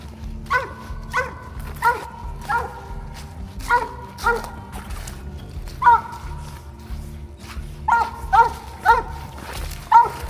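A hunting dog barks at an animal treed in a den tree, sending out loud, repeated barks in quick clusters with short gaps. The barking goes on steadily and close by.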